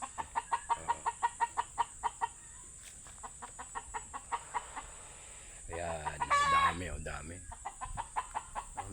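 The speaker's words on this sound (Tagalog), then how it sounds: "manok na maingay" Chickens cluck in a steady, rapid rhythm nearby, briefly interrupted by a person speaking before the clucking resumes.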